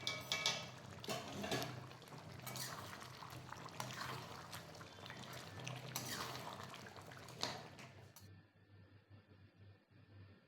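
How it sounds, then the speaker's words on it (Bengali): Hot water pours into a pot of chicken biryani, a steady splashing and bubbling stream that runs for several seconds before tapering into faint drips. "আমি এখানে জলটা দিয়ে দিলাম"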